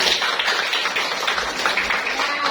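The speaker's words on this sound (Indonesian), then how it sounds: "tepuk tangan untuk kita semua" A school class claps together after singing the national anthem, a close, steady burst of many hands filling the whole moment with little talk.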